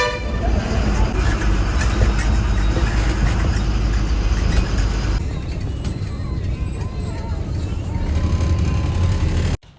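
Express bus engine running at a Hyderabad bus stand, a loud low rumble amid busy traffic with horn toots, muffled voices in the background, cutting off abruptly at the end.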